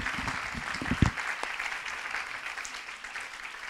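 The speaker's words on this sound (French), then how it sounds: "c'est de vous applaudir, vous." Audience applause at a French-language fundraising seminar: a sustained wash of clapping from a large crowd, fairly even throughout, with a few heavier thumps near the start.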